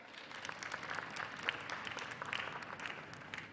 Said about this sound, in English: Please, you can clap better.